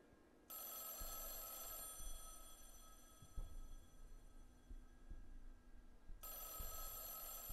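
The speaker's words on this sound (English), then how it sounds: "Do not be alarmed by the phone." An old landline telephone rings steadily in the horror video game Mothered, its bright electronic bell tone sustained for several seconds, then briefly pausing before starting again, over a low hum.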